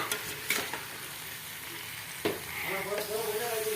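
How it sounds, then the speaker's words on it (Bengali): Bamboo shoot curry frying in a pan while being stirred, with a steady sizzle and a few sharp scraping strokes of the spoon, close and fairly quiet, no voices. "বাঁশকুড়ুলটা দিয়ে দেওয়ার পরে ভালো করে নাড়াচাড়া করো"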